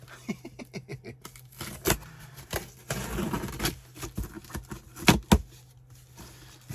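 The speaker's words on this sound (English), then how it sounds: "Let me do it this way instead of ripping the box open." Packaging crinkles and tears as a yarn box is cut open with scissors, a run of quick close rustles and snips with a louder patch of crumpling in the middle and a few sharp clicks near the end.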